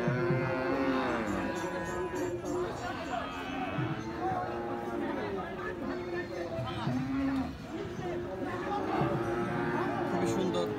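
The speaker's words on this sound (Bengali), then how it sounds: "মোটামুটি ছোট বড় সকল মহিষ রয়েছে।" Water buffaloes moo repeatedly at the Hazratpur cattle market in Keraniganj, their drawn-out calls rising over a steady din of crowd chatter and people talking throughout.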